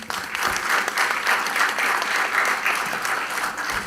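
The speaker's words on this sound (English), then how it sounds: "Give yourselves a big round of applause." Audience applause after a college event at an HR conclave, dense steady clapping from a large crowd that fills the whole stretch at an even, sustained level with no voices over it.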